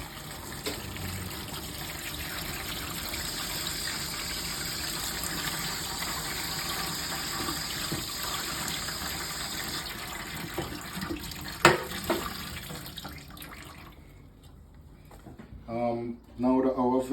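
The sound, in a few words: washing vegetables under running tap water in a strainer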